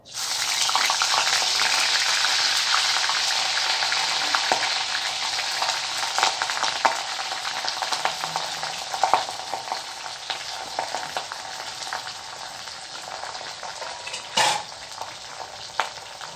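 Mandeli fish dropped into hot oil with sliced potatoes, a loud, dense sizzle that starts at once and settles into steady crackling, with a few spoon scrapes near the end, close up.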